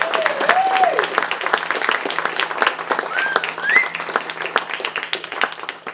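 Applause from a live music audience at a home-set gig, a dense steady patter of many clapping hands with a few whoops and cheers rising through it, loud and close throughout.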